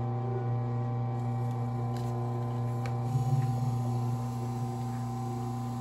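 A Consew industrial sewing machine motor stitching through two layers of material gives a steady, fairly loud electric hum with a faint mechanical rhythm. The sound runs continuously and is heard alone, with no voices.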